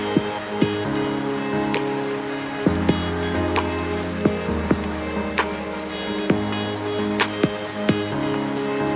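Heavy downpour in a Seychelles nature reserve on Praslin, a dense, steady hiss of rain falling on foliage and surfaces, with a few sharper drip knocks scattered through it.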